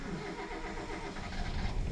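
A 2000 Daihatsu Taruna CSX Limited Edition starts up, its engine catching and running with a low rumble that grows louder toward the end, heard close without talk.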